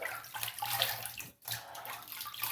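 Tap water runs steadily into a sink for rinsing after a shave, a close splashing stream with one brief break midway before flowing again.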